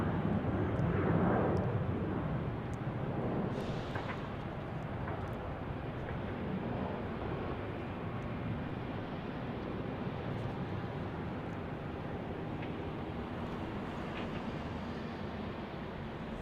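An airliner roars down the runway at Salt Lake City Airport on takeoff. A steady broadband jet rumble swells early, then holds at a moderate, fairly distant level throughout.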